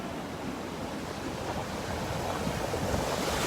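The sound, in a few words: ocean waves breaking at the beach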